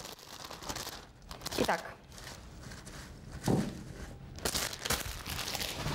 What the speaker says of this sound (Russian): Открыл пакетик, и у тебя салат готов.